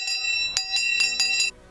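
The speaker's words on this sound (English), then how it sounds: "I think you should either start with a bell" A small bell rings in several quick strikes, clear and close, with sustained metallic tones that cut off abruptly after about a second and a half.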